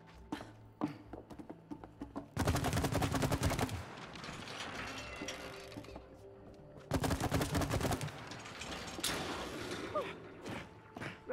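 Heavy guns fire in It Takes Two, two dense, loud barrages of rapid shots separated by quieter mechanical clatter and thumps, with faint voices in between.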